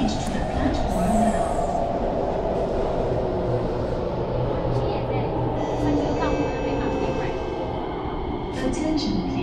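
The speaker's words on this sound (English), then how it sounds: "The last train to Kranji via Woodlands is arriving." A Kawasaki Heavy Industries C751B metro train, the last train to Kranji via Woodlands, rumbles steadily along the platform at Marina Bay, Singapore, with a low continuous roar and faint high squeals, while a public announcement voice plays over it.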